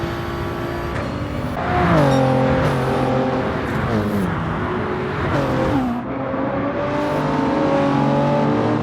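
A race car engine in Gran Turismo 7 revs and shifts through the gears on track, with loud, steady engine whine that rises and drops with throttle and gear changes, no talking.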